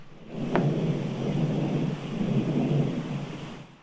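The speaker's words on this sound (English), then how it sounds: "That was also air defense." Distant air defense booms, a deep rolling rumble that builds and fades in two long swells, far off and muffled under steady background noise, with no talking.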